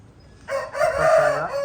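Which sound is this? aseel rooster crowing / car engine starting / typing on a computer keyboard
aseel rooster crowing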